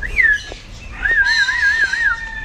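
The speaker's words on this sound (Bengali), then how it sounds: "বেশ বড় বড় সাইজের মিনু পাখি রয়েছে" Large myna birds at a bird park in Sikkim give clear, close whistling calls: one short rising note, then a longer wavering warble, with no talk.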